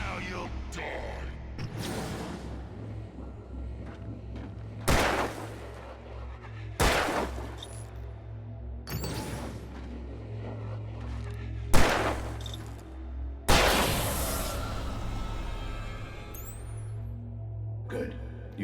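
Gunfire in the video game Alan Wake Remastered, several loud separate shots and booming blasts spaced a few seconds apart over a dark rumbling ambience, with a voice talking in the background.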